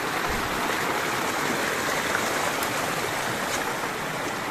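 A clear forest stream on Mount Tanggulangsi flows steadily, a continuous close rushing and bubbling wash of water with no breaks.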